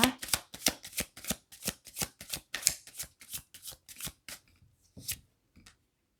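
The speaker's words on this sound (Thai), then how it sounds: "เราจะขอขยายไพ่เลยนะคะ จะได้มีความชัดเจนมากขึ้นนะคะ" A deck of tarot cards is shuffled close up in quick, rhythmic riffling snaps that slow and thin out toward the end, with no voice.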